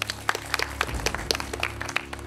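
A quiz show studio audience applauds steadily, with sharp individual claps popping out of a dense, continuous patter at moderate volume.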